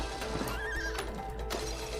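A horse in a video game gives a clear, loud whinny with hoof clip-clops behind it, sounding close, with no one speaking over it.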